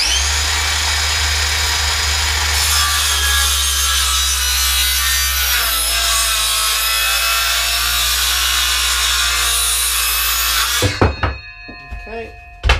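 Power saw cutting wood for a boot rack, a loud continuous close-up whine with grinding texture for about eleven seconds, then stopping with a few clunks of the wood and tool.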